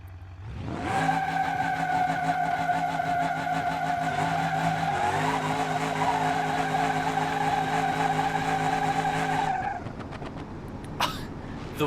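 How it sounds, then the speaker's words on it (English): A Crusher Moonhawk in BeamNG.drive does a burnout with wheel hop. A loud, sustained engine roar and high tire squeal hold steady for about nine seconds, then cut off, followed by a few faint clicks. "This is how you do burnouts for distance right here."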